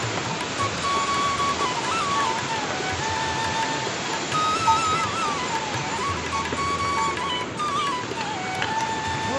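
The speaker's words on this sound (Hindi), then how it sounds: "उससे भी बड़ा झरना है ये, देखो" A large waterfall on the Kedarnath trek roars as a steady, dense wash of rushing water, loud and continuous throughout with no voices.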